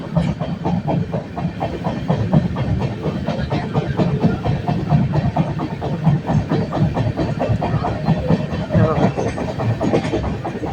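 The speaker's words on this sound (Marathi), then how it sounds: "अब थोडे हळूहळू ट्रेन चाललेली आहे" The Deccan Express rolls along at an unhurried pace, its steady rumble and rhythmic clatter continuous throughout, with a faint hiss in the background.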